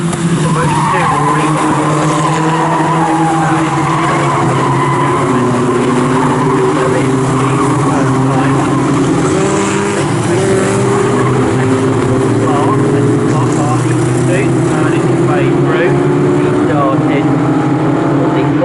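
Locost race cars racing at Snetterton, loud overlapping engine drones rising and falling as the pack passes, with a commentator talking over the roar throughout.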